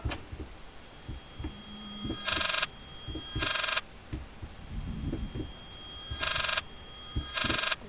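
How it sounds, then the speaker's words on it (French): An old telephone rings in the horror video game Layers of Fear, four bright, shrill bursts at steady intervals over a low hum and faint creaks, with no voices. "Il y a un téléphone qui sonne."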